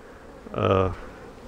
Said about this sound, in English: Boy, the apiary is a buzzing.